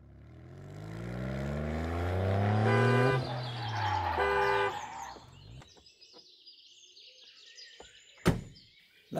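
A car drives as a sound effect in a German radio play, its engine rising in pitch as it accelerates and passes, then fading out, followed by a few sharp clicks and a door-like thud.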